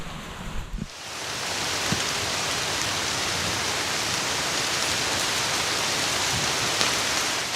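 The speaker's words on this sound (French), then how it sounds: "Un orage a subitement éclaté" Rain from a sudden thunderstorm in the countryside sets in after a short opening noise, then pours as a dense, steady hiss that stays loud and unbroken.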